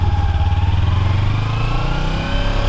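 A 300 motorcycle engine drones loud and close in a steady, throbbing hum that eases slightly near the end, with no voices over it.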